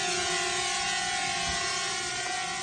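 A DJI Mavic Air drone hovers indoors, giving a steady, fairly quiet high-pitched whine of small propellers with a sharp tonal hum, continuous and close throughout.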